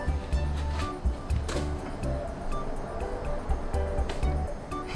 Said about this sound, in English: I tried turning the fan off and then it like deflated and didn't look right.